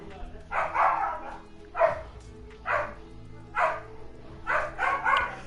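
A pet dog barks repeatedly indoors, giving about six to seven yappy bursts at irregular intervals, fairly close and mixed with a person talking.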